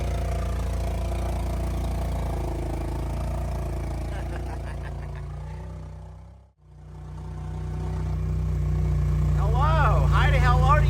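A vehicle engine runs steadily on a ranch, its low hum constant through the drive and dipping briefly midway, with people talking over it and a dog whining near the end.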